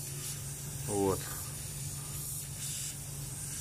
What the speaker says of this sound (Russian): Короче, вот шипит вот этот кран.